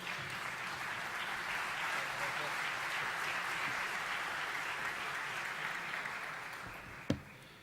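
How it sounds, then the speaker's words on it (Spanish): A large audience applauds steadily for about seven seconds to welcome a guest speaker onto the stage at a conference, a dense even wash of clapping, then a single sharp thump near the end. "lo recibimos con un aplauso grande"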